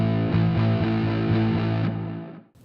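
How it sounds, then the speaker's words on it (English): Distorted power chord played together on guitar and bass, loud and thick with a gritty sustain, a few rhythmic re-strikes before it cuts off after about two seconds. "the same notes that a bass player and guitar player would play together if the guitar player chose a power chord"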